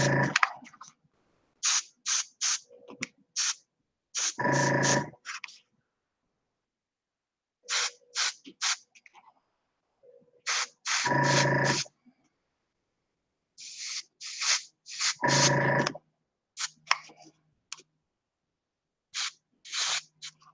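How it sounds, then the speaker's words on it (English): Aerosol spray can used to spray-paint miniatures, heard as repeated short hissing bursts of varying length separated by pauses, fairly close and clear with no talking. "So I can start to spray some of these."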